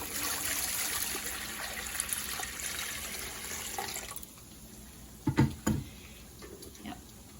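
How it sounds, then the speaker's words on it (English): Water pours into an All-American pressure canner, a steady splashing trickle for about four seconds that then stops, followed by a few sharp metallic clunks in a quiet kitchen. "I'm gonna pour 2 inches of water in the bottom."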